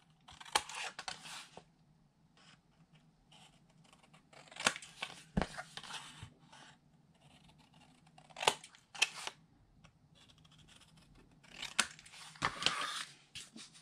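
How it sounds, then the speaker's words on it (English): Scissors snip chipboard to miter-cut the ends of a paper craft box, giving a few faint, scattered cutting and rustling bursts separated by quiet gaps. "And then I'll come back with my scissors and I am going to miter cut my ends."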